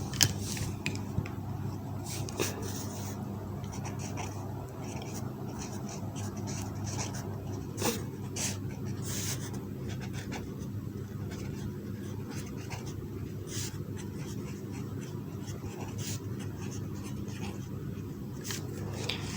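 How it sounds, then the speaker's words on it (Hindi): Pen or marker writing a chemical equation on a board or paper, faint scratchy strokes and taps spread across the stretch over a steady low background hum, no speech. "हम यहाँ पहले ही अपनी इक्वेशन लिखते हैं।"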